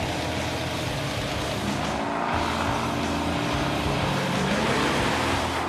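Supercharged 1969 Camaro engine with a blower and 750 double-pumper carburetor rumbles close by, a loud, lumpy idle with a brief rev and settle.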